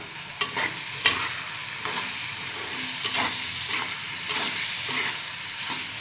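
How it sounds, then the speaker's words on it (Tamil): Field beans are sautéed in a pan, a bright steady sizzle broken by repeated scraping and stirring strokes at a regular pace, close and alone. "இப்போ இதோட வந்து மொச்சக்கொட்டையும் சேர்த்து கொஞ்சம் வதக்கிக்கலாம்"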